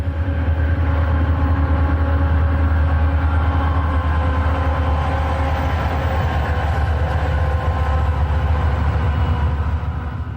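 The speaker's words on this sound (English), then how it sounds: "a train is heard coming down the main" A Conrail train rolls down the main line near a rail yard, a loud continuous low rumble of diesel engines and wheels that holds steady throughout.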